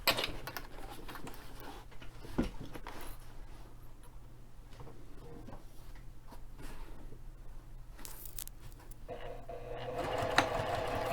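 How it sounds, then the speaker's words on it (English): A sewing machine stitches a straight seam across clipped fabric at a 3/8-inch allowance with stitch length near 3. It runs as a steady, fairly quiet mechanical hum for the whole stretch, with a slight change near the end. "So we're just going to sew straight across here where we clipped."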